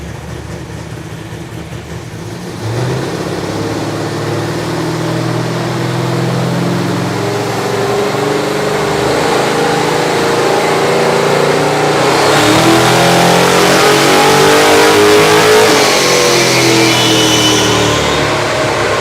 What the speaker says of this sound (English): it's got a Ram Air 5 engine. So maybe I'll put that on the dyno,